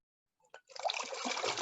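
Water from a jar tipped slightly, trickling out through a small screen over its mouth, a soft, close, steady dribble that starts after a couple of faint drips.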